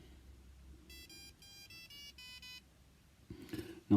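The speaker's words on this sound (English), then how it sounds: "it's a three rod bite alarm set there" Small fishing bite alarm from a three-rod set emitting a series of short, bright electronic beeps in quick succession, close and clear, followed by a brief rustle of handling.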